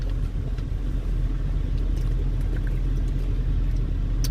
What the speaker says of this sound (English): it definitely sounded like a gas vehicle when he punched